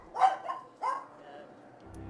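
Household dogs barking off to the side, with two short, muffled barks, then a faint low voice near the end.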